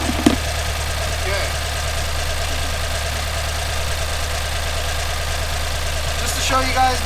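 Aftermarket AEM 340lph fuel pumps whir steadily under a 2015+ Subaru WRX idling nearby, a continuous low hum with a brief clunk near the start and a short burst of noise toward the end.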